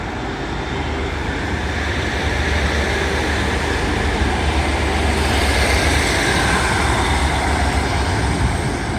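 A Class 150 diesel unit at York station rumbles steadily past, its low engine drone and wheel noise holding loud and continuous, slightly swelling midway, with no talk over it.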